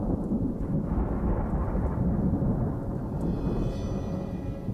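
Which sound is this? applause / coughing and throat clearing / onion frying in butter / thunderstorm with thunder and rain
thunderstorm with thunder and rain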